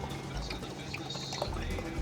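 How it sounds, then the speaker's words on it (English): Wine pours into a glass at a dinner table, a soft, faint liquid trickle lasting a couple of seconds under low room noise. "she's pouring the wine"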